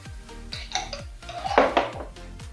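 A wok is set down on a gas stove and ghee is spooned in, giving a series of close metallic clanks and clinks with a sharp scrape near the middle; no voices.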